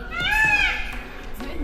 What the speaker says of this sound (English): This is the sound of the peacock.